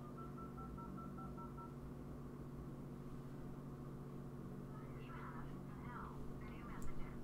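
Phone dialing tones sound in the Blair Witch video game, a steady electronic tone pattern holding near and continuous over a low hum, with soft talk near the end.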